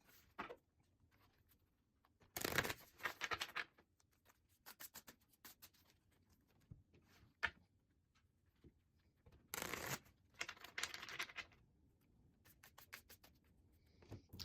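Cards are shuffled in two separate bursts of rapid riffling and fluttering, quiet and close, with soft handling noises and pauses between.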